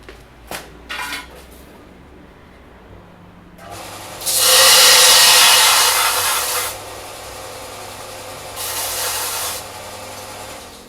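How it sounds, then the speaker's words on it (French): Sanding a small wooden part for a homemade smoke extractor, heard as a few light scrapes and then two sustained bursts of steady abrasive rubbing, the first long and strong and the second shorter, nearby with no talking. "Du coup, je vais poncer."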